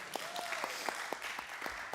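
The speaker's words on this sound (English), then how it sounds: "Can we get applause for yes and?" Faint, thin clapping from a small audience at an author reading and Q&A, a handful of soft claps in a loose, fairly regular beat against a quiet room background.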